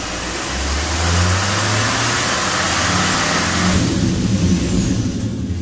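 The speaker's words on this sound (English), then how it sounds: "Now we are going to take up our engine RPM to" A 2013 GMC engine revving steadily up to about 2,500 RPM and holding there, a loud, sustained mid-pitched roar with a rising tone early on, heard close with no talking.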